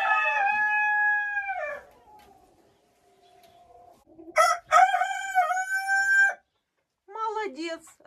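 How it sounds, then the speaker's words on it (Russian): A rooster crows in a chicken coop where laying hens are kept, several loud, close, drawn-out calls with short gaps between them and no talk over them. "Раз кукарекает, значит освоился."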